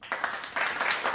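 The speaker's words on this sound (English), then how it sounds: "Too much clapping." Crowd-style clapping sound effect triggered during a wrestling podcast, a short burst of applause with dense overlapping claps that swells toward the end, mixed with a little voice.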